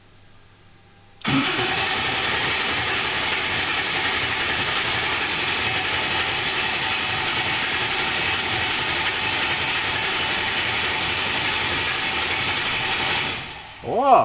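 A 903 cubic inch ProCharged engine fires up after a quiet moment and settles into a loud, steady, rumbling idle that runs on, with a brief exclamation from someone nearby.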